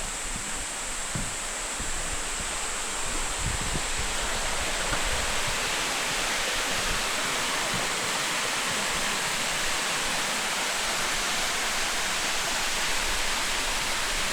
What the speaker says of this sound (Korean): 암벽에서 떨어지는 물소리와 풍경이